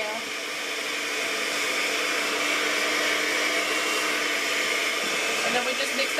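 An electric mixer beats cream cheese pound cake batter with flour mixed in, a loud, steady whirring drone that runs unbroken from start to finish.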